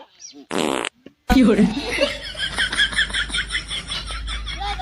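A comedic, drawn-out fart sound from an elderly grandfather in a rural Awadhi comedy sketch, a loud buzzing burst in the first second or so, followed by lively talk and background chatter.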